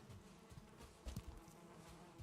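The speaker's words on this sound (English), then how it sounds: "Better clear the bees out, actually, before they get full." Bees buzz around beehives in the video game Valheim, a low, steady insect drone that stays quiet and continuous with small swells, and no one talks over it.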